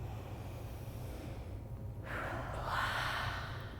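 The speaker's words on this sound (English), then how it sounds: "So take a deep breath in." A slow deep breath drawn in and let out, part of a calming breathing exercise for kids; soft airy rushes, with the louder exhale-like swell in the second half.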